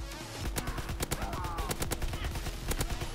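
Rapid bursts of Grease Gun submachine gun fire in Call of Duty WW2, a dense, steady stream of loud shots in close succession with no pauses.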